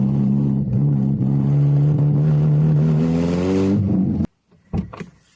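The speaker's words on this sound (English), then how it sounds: "once I give a little bit of gas and it's in gear rolling, it actually seems like it's pretty smooth" A 2011 Honda CR-Z with a swapped K20Z3 engine runs close by, its throaty drone climbing in pitch as the revs build, then cutting off abruptly before some faint handling noises.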